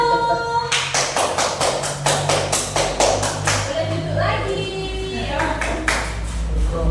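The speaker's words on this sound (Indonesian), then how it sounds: "Kita kasih tepuk tangan untuk kelompok 1." Classroom applause for a student group, many hands clapping in a steady burst through the first few seconds, then fading as a teacher's voice speaks over the room.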